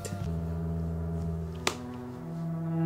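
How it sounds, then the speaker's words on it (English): Sustained violin lines from a song hold steady, layered tones throughout, with a sharp brief hit partway through; the music plays alone with no talking. "Violins, violins, violins."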